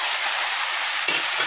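Cabbage, green beans and carrot frying in a pan for kadambam poriyal, a steady soft sizzle with a brief stirring scrape near the end, close and continuous with no voices.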